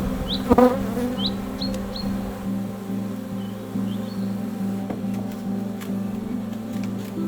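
Dense, steady buzzing of a large mega colony of honey bees at hives in an apiary, a continuous close drone with individual bees flying past the microphone.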